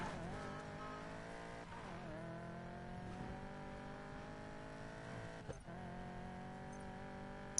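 A car drives in the racing video game Need for Speed Payback, with a sustained, droning engine note that shifts pitch in a couple of gear changes, heard steadily and fairly quietly.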